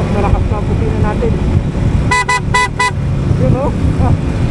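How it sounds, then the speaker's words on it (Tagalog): A loud car horn gives four short honks in a quick burst, cutting through steady road and engine noise, with people talking in the background before and after the honks. "Tapos malakas pa ang busina natin."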